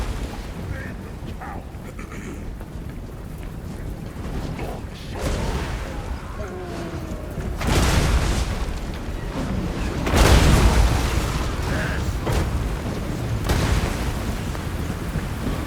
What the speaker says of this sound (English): let's go watch these brimstone guns. Shooting those ogres in the butt.